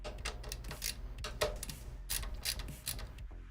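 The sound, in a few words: tightening a bolt in a computer case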